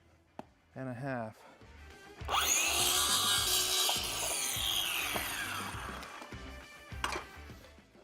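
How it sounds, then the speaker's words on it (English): A piece of wood is cut square at 90 degrees with a power saw, which gives a loud, sustained whining cut of several seconds after brief handling noises and a short voice, close by. "I'm gonna cut this at a 90."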